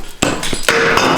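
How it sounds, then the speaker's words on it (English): A hammer strikes the water pump of a high-mileage first-generation Cummins engine during a teardown, with three sharp metallic blows, close and loud. "Let me go get a hammer."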